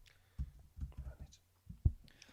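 Several soft computer mouse clicks from someone saving an image while working through a Maya 2018 tutorial, faint and close, coming in small uneven groups.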